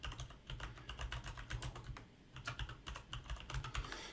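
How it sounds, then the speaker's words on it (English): Quick, uneven keystrokes clatter on a computer keyboard in a close, quiet burst of typing with brief pauses, no voices over it. "So let's go ahead and type in educational websites."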